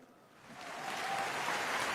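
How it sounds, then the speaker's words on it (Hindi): Audience applause at a live Hindi poetry recitation, a dense wash of clapping that swells from moderate to loud and steady over about two seconds, with no voices on top. "जरा उठ जाएं तालियां इस बार।"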